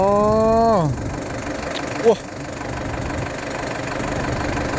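A Yanmar S75 tractor engine, set up for leveling soil for sugarcane, runs steadily close by; its tone drops at first as it winds down, then settles into a continuous idling rumble with a brief knock partway through.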